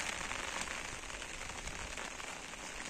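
Steady rain patters densely on a nearby umbrella, a continuous hiss of drops with no voices.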